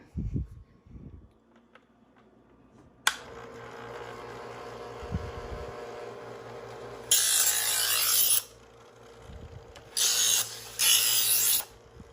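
Chef'sChoice 15 Trizor XV EdgeSelect electric knife sharpener runs with a steady motor hum, broken by two loud, harsh grinding bursts as a blade is drawn through its abrasive discs, with a few clicks and knocks beforehand.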